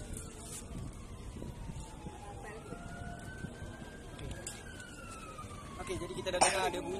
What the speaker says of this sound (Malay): kita dah dengar ada bunyi ambulans ke ataupun ronda untuk backup jalan